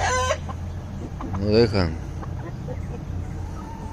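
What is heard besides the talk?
hens clucking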